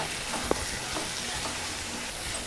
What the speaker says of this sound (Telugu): దీనిలో అల్లం పచ్చిమిరపకాయ పేస్ట్ వేసి కలుపుకోవాలి.